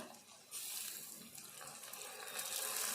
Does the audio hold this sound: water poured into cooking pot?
yes